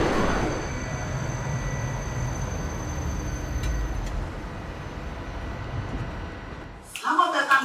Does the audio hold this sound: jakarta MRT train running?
yes